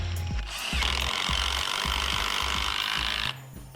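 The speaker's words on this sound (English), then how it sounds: "Your impact driver won't give up before the screw does." A Bosch impact driver drives screws into wood. It gives a continuous buzzy rattle for about three seconds, with a fast pulsing hammer beneath it, and cuts off abruptly near the end. The sound is close and loud, and no one talks.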